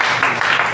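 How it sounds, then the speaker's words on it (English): Audience at a church convention applauding in a short steady burst of clapping, loud and dense throughout. "Clap for me."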